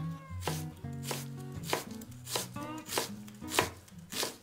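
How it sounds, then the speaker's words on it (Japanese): A knife rapidly chops onion on a cutting board for curry prep, steady close knocks repeating about twice a second over quiet background music. "みじん切りにしておこう。"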